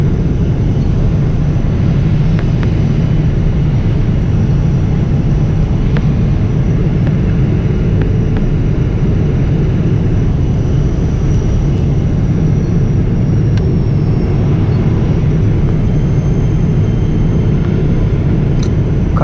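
A Singapore Airlines airliner landing at Singapore's airport, heard as a loud, steady roar of engines and rushing air that holds constant throughout with no talking.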